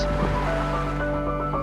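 Sea waves at Mandvi Beach in Kutch, a steady close wash of surf with a constant low roar and gentle swells, no voices.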